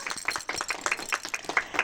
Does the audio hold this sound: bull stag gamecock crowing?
no